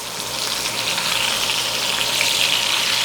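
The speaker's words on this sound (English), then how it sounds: "Let's go ahead and flip our steaks and check out the sear." Steaks sizzle and sear in a hot pan with butter just after being flipped, a steady close hiss of frying that runs unbroken without any talk.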